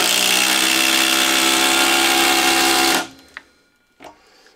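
A Flex impact driver on its small bolt setting whirs loudly and steadily for about three seconds, then cuts off, followed by two brief clicks or knocks.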